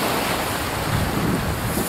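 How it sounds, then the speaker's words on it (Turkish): Strong wind and breaking surf at Kadırga Bay on the Çanakkale coast, a loud steady roar of waves and wind buffeting the microphone throughout, with no voices. "Rüzgarlı da hava zaten."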